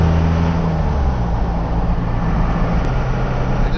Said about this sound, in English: let me just RPM shift it real hard